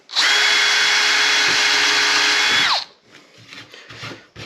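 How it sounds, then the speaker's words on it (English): A power drill bores a screw hole into wood for a storm door frame, one loud steady whine lasting over two seconds that winds down sharply, followed by faint handling noise. "And if we drill them like this,"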